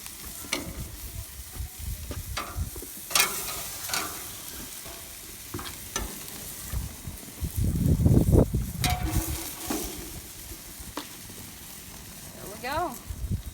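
Hamburgers sizzle on a grill as they are lifted off, with a steady frying hiss broken by scattered sharp scrapes and clicks of the spatula, and a person talking in between.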